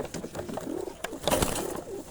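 Pigeons coo in soft, rolling phrases at close range, a few repeated calls with light background noise and no talking.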